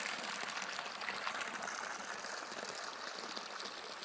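Steady rushing water pours continuously into a container, a broad hiss-like flow that holds even for several seconds with no voices.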